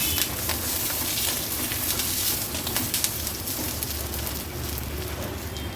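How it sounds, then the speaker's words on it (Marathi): Green chillies roasting in oil in a pan, a dense crackling sizzle with sharp pops scattered across it, close and continuous, with no voice over it. "1-2 मिनिटाकरता फक्त या मिरच्या मी व्यवस्थित या तेलावर अशा भाजून घेते।"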